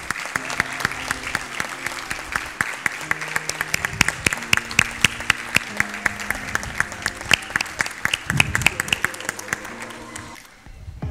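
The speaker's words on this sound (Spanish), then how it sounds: "le damos un fuerte aplauso." Applause at a kindergarten graduation ceremony, where a crowd claps steadily and densely for over ten seconds with a few brief voices underneath, before it fades at the end.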